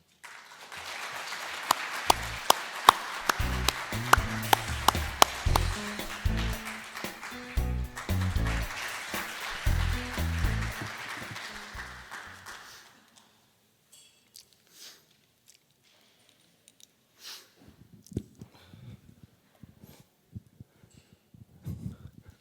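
A lecture-hall audience applauding to welcome a lecturer at an academic conference, a dense burst of clapping lasting about twelve seconds before tapering off, followed by scattered faint taps and rustling.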